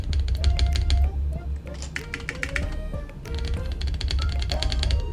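Typing on an old mechanical keyboard: rapid, crisp key clicks in irregular bursts, close and fairly loud, with someone talking over much of the clatter.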